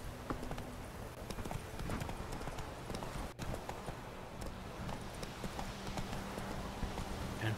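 Horse hooves clip-clop steadily at a trot while riding in The Witcher 3, a continuous rhythmic patter of footfalls under faint ambient game sounds, moderately close throughout.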